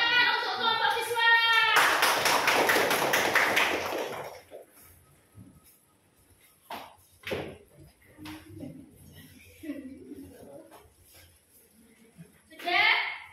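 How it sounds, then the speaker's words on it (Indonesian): Students applauding in a school classroom, a burst of dense clapping for a few seconds that fades into scattered light taps, with children's voices and a teacher talking around it. "tepuk tangan untuk kelompok visual"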